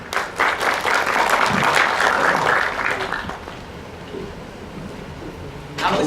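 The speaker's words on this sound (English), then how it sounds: "Please give him a warm applause." Warm applause from a conference audience greeting a keynote speaker, dense steady clapping filling the room for about three seconds before thinning out and fading to quiet room noise.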